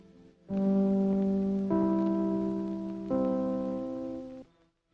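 The NBC network chimes ring out on the radio, three clear sustained tones in a rising sequence, each one sounding alone and fading gently at the end.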